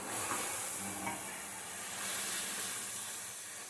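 Onion paste fries in a pan for street-style pav bhaji, giving a soft, steady hiss and sizzle at low level with faint stirring, no speech present.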